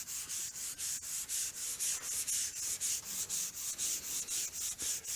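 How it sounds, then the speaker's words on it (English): Steady back-and-forth rasp of fine sandpaper rubbing along the grain of a wooden countertop, about twenty quick even strokes in a regular rhythm, close and clear with no talking. "sanding with the grain here"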